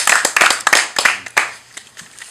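An audience at a live comedy show claps for Muzehe Nikoni in a short, scattered burst of sharp, close hand claps that thins out toward the end.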